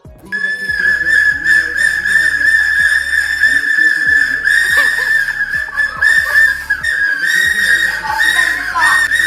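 Shrill, sustained whistle blasts sound loudly and repeatedly, holding a steady piercing tone with brief breaks, under a lively crowd with scattered laughter and voices.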